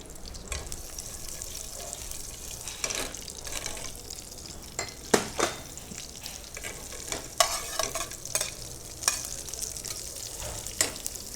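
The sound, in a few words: green chillies frying in oil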